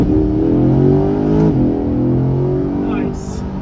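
Corvette C8 Grand Sport accelerating in Z mode, a loud, close engine note rising, shifting about halfway through, then settling back before a short hiss near the end.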